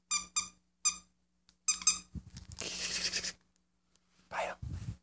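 A squeaky dog toy gives several sharp squeaks in quick pairs, then a scuffle and rustling noises, apparently from the dog mouthing and handling it up close.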